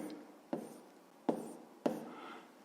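Three sharp, separate taps and strokes of a pen on paper while working a fifth-grade percentage math exercise, close and quiet against a soft background hiss.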